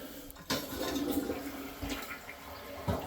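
A toilet flushes inside a house during a walkthrough of a home in Evans, Georgia, giving a sustained watery rush that swells after a sharp start and continues steadily for a few seconds.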